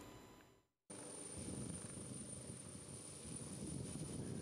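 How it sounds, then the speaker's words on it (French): A helicopter carrying a presidential couple lifts off over Bongouanou, its broad, steady rotor and engine roar rising abruptly after a brief silence and holding loud and continuous. "L'hélicoptère qui s'élève dans le ciel de Bongouanou a à son bord le couple présidentiel."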